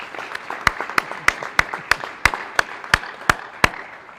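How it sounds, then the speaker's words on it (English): Sparse, distinct claps ring out at a National Honor Society induction ceremony at Malden Catholic, a dozen sharp hits in a loose, uneven rhythm over soft background clapping, fairly faint and with no talking. "Let's give her a round of applause."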